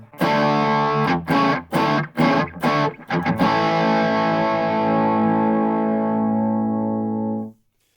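Loud distorted electric guitar chords from an MXR Classic Distortion pedal chop in quick stabs, then one chord rings out and sustains for several seconds before stopping abruptly, with no speech.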